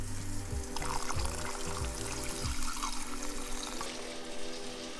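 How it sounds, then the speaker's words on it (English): Water pours steadily into a pot of radish pickling jars, a close, splashing rush that continues throughout, with some low background tones underneath. "we're going to add some more water"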